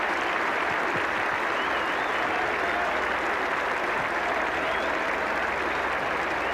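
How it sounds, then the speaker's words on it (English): A big cricket crowd at Edgbaston during a 1985 Ashes match applauds, a dense, steady wash of clapping that continues unbroken and fairly distant. "plenty for this big Edgbaston crowd to cheer about"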